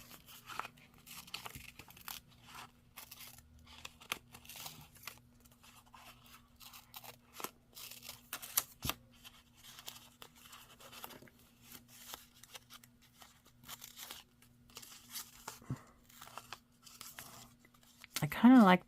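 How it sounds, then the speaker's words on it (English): Scissors cut paper card pieces for a craft project, giving scattered, quiet snips and crinkles spread across the stretch, with soft handling noise between them. "let me cut the 3 pieces out that I'm going to use"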